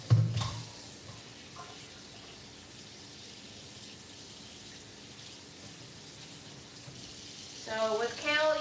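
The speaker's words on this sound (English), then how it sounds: "with kale, you should wash it at least 3 times in my experience because it can be quite gritty" Kale leaves are rinsed under a running kitchen sink tap, with a soft, steady flow of water and a few louder splashes near the beginning and end.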